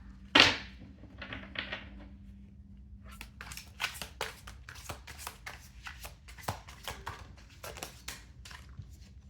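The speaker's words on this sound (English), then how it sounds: "Let's reshuffle here." Tarot cards are shuffled in a quiet room, with a sharp riffle near the start followed by a long series of crisp, rapid card flicks and taps, close and clear against faint background hum.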